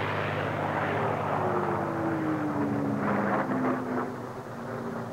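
Racing propeller planes roar past at the 1979 Reno Air Races: a loud, continuous engine drone whose pitch slowly slides downward as the aircraft sweep by, with no voices.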